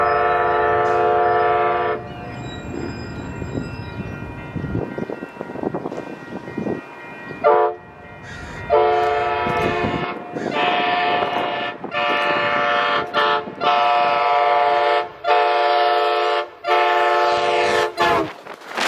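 The horn of an Amtrak train in North County San Diego sounds in long loud blasts with short gaps between them, close by, over the rumble of the passing train.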